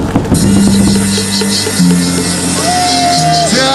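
A loud, dense crowd roars at a KIA Tigers baseball game in the stadium cheering section, with sustained horn-like tones riding over the continuous noise and no clear break from start to finish.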